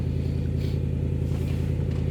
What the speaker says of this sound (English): the neighbor decides to start up their car